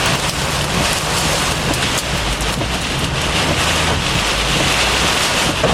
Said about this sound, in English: Maybe some small hail again.